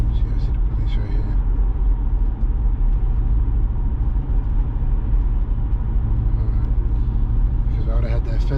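A totaled Audi S5 bought at auction drives with a loud, steady low engine and road rumble from inside the cabin, a faint vibration from the front, and occasional talk over it.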